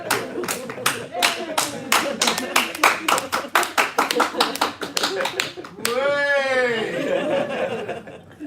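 One person clapping hands in a steady rhythm for several seconds, close and sharp, with chuckling and laughter mixed in, then a voice speaking.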